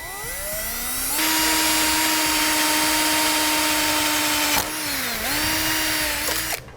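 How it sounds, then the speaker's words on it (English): A power drill whines steadily at high speed drilling a small pilot hole during a base plate installation on a 2008 Honda CR-V, briefly dipping in pitch before spinning back up, loud and close. "we'll drill a small pilot hole in it first"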